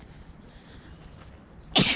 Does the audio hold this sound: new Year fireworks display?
no